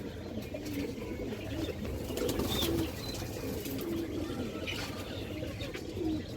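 An orange Chila pigeon, a hen, coos in a repeated low murmuring pattern close by, with faint chirps and the soft bustle of a pigeon market or loft around it.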